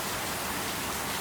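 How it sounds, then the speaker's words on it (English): Heavy rain pours down steadily as a dense, continuous hiss, close and loud throughout with no breaks and no voices. "Look at this rain."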